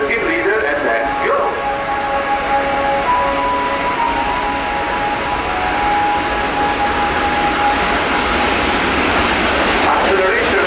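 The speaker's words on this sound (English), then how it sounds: "Rotation is starting as acceleration on the runway." Military jet accelerating down the runway on takeoff at the RIAT airshow, a loud, steady engine roar with whining tones that holds for the whole stretch and builds slightly toward the end, with no voices.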